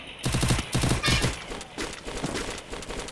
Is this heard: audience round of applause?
no